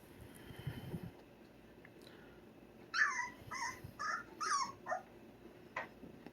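A young bully-breed puppy whimpers in a quick run of high, thin whines, fairly close and alone against quiet background noise, followed by a fainter yip near the end.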